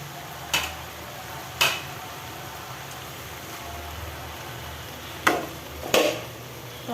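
Potato bhaji frying in a pan, a steady soft sizzle running throughout, broken by four sharp spatula scrapes or knocks against the pan at uneven intervals, close by and with no talking.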